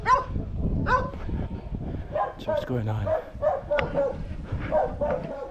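A dog barks repeatedly at close range on a side road in Mesopotamia, St. Vincent, with short yips and whimpers mixed in, while a person talks over it throughout.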